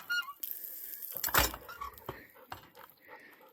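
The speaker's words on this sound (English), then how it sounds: "So that's the water pump" Water runs from a campsite water pump in short bursts of splashing and gushing, loudest in one strong surge near the middle, with a dog nearby.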